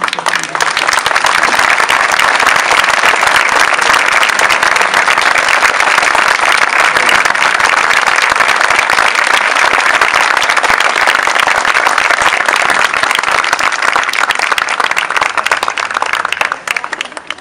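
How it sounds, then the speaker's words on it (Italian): Sustained, loud applause from a standing audience at the inauguration of a new library in Gaggiano, a dense wash of clapping hands that continues evenly for many seconds before tapering off at the end. "Alziamoci tutti in piedi e applaudiamo la signora D'Arcon"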